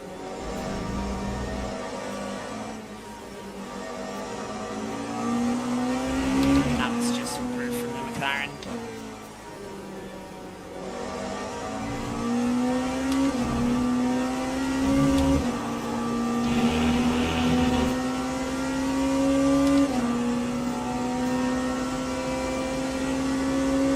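Hypercar engines whine and rise in pitch as cars pass on track at Spa in the Le Mans Ultimate racing game, a sustained droning engine note that climbs and holds, with a commentator's voice over it.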